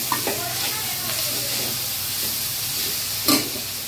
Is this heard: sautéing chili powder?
yes